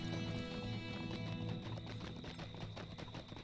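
Horses in the Lord of the Rings Online video game, steady clip-clop of hooves with a neigh, moderately loud and continuous against game ambience.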